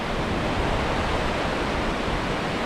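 Cutthroat Creek, fed by Cutthroat Lake, rushes under a bridge in the North Cascades. A loud, steady, broadband roar of flowing water continues unbroken throughout.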